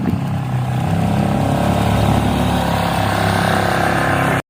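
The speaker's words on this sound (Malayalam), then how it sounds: "പുള്ളി വണ്ടി സ്റ്റാർട്ടാക്കി പുള്ളി പോയി" A vehicle's engine runs loud and close on a family trip, a steady droning rumble that holds level for several seconds before cutting off abruptly.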